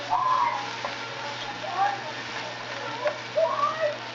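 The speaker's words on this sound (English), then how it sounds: "we're going to add a good bunch of garlic cloves here and stir that up some more" Garlic cloves sizzling in a pot of sofrito-style base for arroz con gandules, a soft steady fry with occasional stirring scrapes, while someone talks over it.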